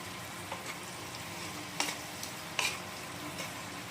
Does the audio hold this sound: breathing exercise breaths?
no